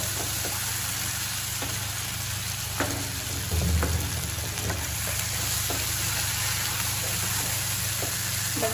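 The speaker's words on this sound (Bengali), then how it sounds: "তো আমরা এবার মশলাগুলো ভালো করে কষাবো" Spice paste with chillies frying in hot oil in a pan, a constant moderate sizzle broken by intermittent spoon scrapes and taps, with a low background hum and no voices.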